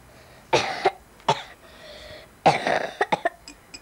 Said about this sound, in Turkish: Gidemem bak, ne biçim öksürüyorum.